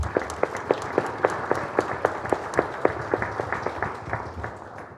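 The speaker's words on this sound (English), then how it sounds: "Let's give them a big round of applause." Applause at a city mayor's community evening after a groundbreaking announcement, a thin scattering of claps with a few distinct hand strikes standing out over a soft background crowd.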